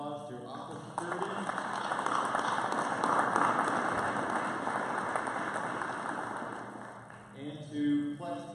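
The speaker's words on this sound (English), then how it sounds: "give a huge round of applause to Aqua Security." Audience applause at the DevOps Days tech conference, a sustained wash of clapping from a large room that swells mid-clip and tapers off, with a voice speaking over the fading end.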